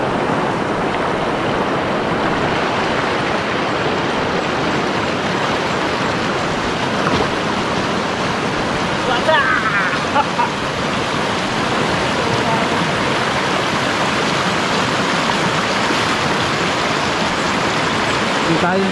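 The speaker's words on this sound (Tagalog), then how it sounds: "Maagos dito." Strong river current rushing in a steady, loud broadband wash, continuous throughout, with a few brief splashes and people speaking faintly over it.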